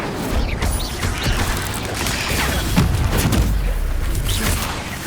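Spell-casting combat effects from the video game Hogwarts Legacy: a dense, continuous stream of magical bursts, crashes and booming impacts, loud and layered with brief whooshes, with no voices.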